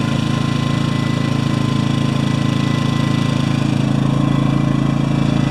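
A Predator 2000 portable generator's small engine runs steadily at a constant idle, a loud, even drone with a knocking low rumble throughout and no talk.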